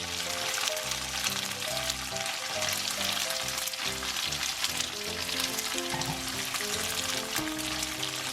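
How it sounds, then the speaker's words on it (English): Tofu pieces sizzle steadily in hot oil in a pan, a close, continuous crackle with no talking over it. "Been frying for a little while,"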